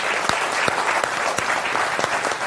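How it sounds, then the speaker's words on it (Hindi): A television studio audience claps steadily to welcome a guest on a Hindi political debate show, a dense, even burst of applause with no voices over it. "उनका जोरदार तालियों के साथ अभिनंदन है"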